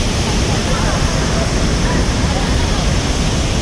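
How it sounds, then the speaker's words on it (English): Murchison Falls on the Nile River thunders close by as a loud, steady roar of crashing water that fills the whole scene without a break. "Yes, we are on the Nile River, and that is Murchison Falls."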